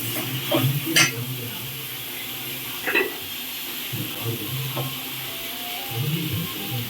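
Chopped tomatoes cook in a pan for a sprouted green gravy, giving a steady low sizzle with a few sharp clinks of a utensil against the pan, close by.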